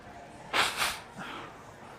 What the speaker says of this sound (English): I got blow my nose again